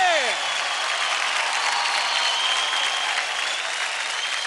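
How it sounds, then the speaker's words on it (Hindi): Loud, dense applause from a TV dance show studio audience fills the whole stretch evenly, a steady wash of clapping with a brief sweeping electronic effect at the very start. "जोरदार ताली हो जाए अभी के लिए।"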